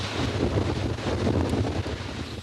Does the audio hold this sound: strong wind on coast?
yes